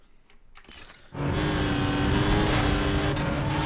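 Porsche Carrera GT in Need for Speed Most Wanted, its engine roaring loudly after a quieter opening, a sustained high-revving drive with tire noise, continuing steadily to the end.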